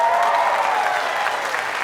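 An audience applauds a band on a community television show with a steady wash of clapping that stays at an even level and fades slightly toward the end, with no speech over it.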